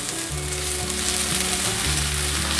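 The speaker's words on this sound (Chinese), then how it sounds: "现在放入红喜菇，还有玉米笋，把所有食材快炒" Carrots, mushrooms and baby corn stir-fry in a hot wok with a loud, steady sizzle, while a spatula scrapes and tosses the vegetables in a low rhythmic undertone.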